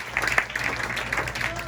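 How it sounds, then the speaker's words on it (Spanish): A church congregation applauds for Christ during a service in a short, moderately loud burst of clapping with a few voices mixed in. "En un aplauso a Cristo en esta hora."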